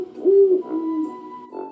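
An owl hoots as a sound effect in a children's Halloween picture-book read-aloud, giving a clear, loud, wavering call followed by a softer second hoot, with no voices over it.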